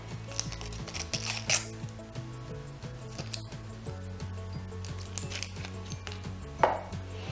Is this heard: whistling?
no